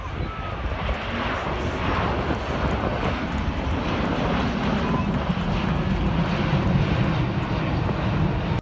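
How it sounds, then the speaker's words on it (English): A giant Airbus A380 jet roars through a near-vertical takeoff at the 2017 Paris Le Bourget air show, a loud, steady, broadband engine rumble that holds for the whole stretch with no break. "this giant Airbus A380 managed to perform an unbelievable near-vertical takeoff"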